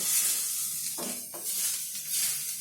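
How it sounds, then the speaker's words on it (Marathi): Masala roasting in a pan, a quiet steady sizzle broken by a couple of brief scraping stirs. "आता मसाला सर्व भाजून घ्यायचा लाल होईपर्यंत."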